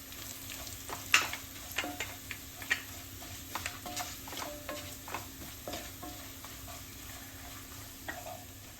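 Chilli powder and curry leaves frying in a pan, stirred with a spoon: a soft, faint sizzle under a run of irregular scraping and tapping strokes, close by, with no talking.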